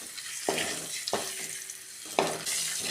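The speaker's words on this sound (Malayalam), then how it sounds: "ഈ വെളിച്ചെണ്ണയിൽ കിടന്ന ഈ മുട്ടയൊന്ന് മുറിച്ചെടുക്കാം" Eggs fry in coconut oil with turmeric and salt, giving a close, steady sizzle broken by three sharp bursts as they are turned or stirred in the pan.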